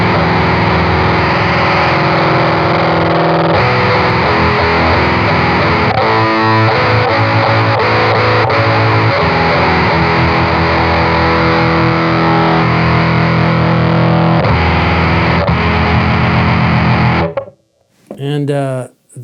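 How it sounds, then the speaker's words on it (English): Guitar amp driven into heavy power rail clipping, a loud, dense, saturated distorted tone sustained for most of the time, then cutting off into short choppy bursts near the end. "there's just like tons of power rail clipping that's happening instead of just a little bit"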